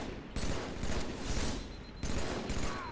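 Gunfire in Halo 3 from the Master Chief Collection multiplayer: two loud, dense bursts of weapon fire, each starting sharply and sustained for over a second, close and dominant with little talk.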